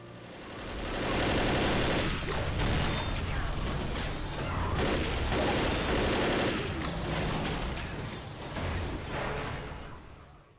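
Dense, rapid gunfire fills a Left 4 Dead zombie horde fight, overlapping automatic bursts and shots rising loud and sustained, then tapering with scattered shots and game effects toward the end.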